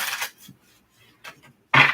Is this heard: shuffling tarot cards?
yes